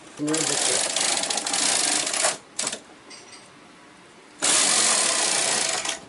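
A knitting machine carriage sweeps across the needle bed knitting a row for a sweater back, a loud mechanical rattling whir in two long passes separated by a short quieter pause with clicks.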